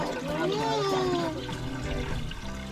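Water poured to fill a container for mixing concrete for a post in a kitchen dig, a steady liquid rush with a rising gurgle as it fills, close by, with speech over it.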